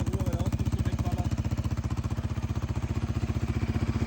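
A Yamaha Raptor 700R quad idles close by, its single-cylinder engine and loud exhaust thumping in a fast, even pulse of steady chugging beats throughout.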